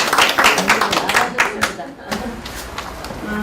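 Applause at a church QT seminar for leaders in LA: a burst of clapping hands rises first and tapers off, mixed under prominent talking that continues throughout.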